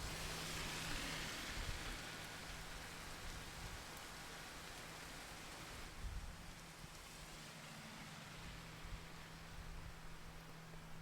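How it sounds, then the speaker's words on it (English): Torrential rain pours down in Trinidad, a steady, dense hiss that stays fairly even for the whole stretch, with no voices over it. "and then out of nowhere, torrential downpours."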